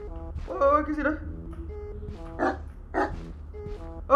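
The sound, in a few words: dog barking in video game Something In The Well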